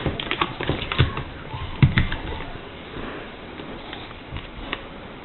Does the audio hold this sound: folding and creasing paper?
yes